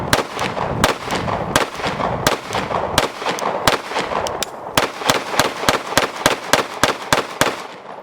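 A Glock 17 pistol firing rapid strings of shots with XTech Tactical aftermarket magazines, around twenty sharp loud reports in steady bursts with short pauses, plus other shooters' shots on an outdoor range, no speech.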